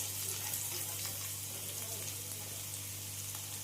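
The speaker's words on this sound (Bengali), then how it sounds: "এবার আমি 1 চামচ রসুনকে এভাবে ছোট করে কুচি কুচি করে রেখেছি, সেটা দিয়ে দিলাম" Minced garlic sizzles in hot oil with cumin, a faint, steady frying hiss under a low constant hum, with no talk.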